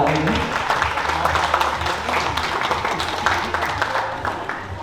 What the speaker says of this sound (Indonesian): Tepuk tangan dari seluruh tamu undangan yang hadir pada sore hari ini.